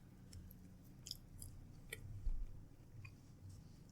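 Someone chews dried beef snack very close to a microphone, producing soft, irregular crunchy mouth sounds and faint clicks over a low background hum, with no talking.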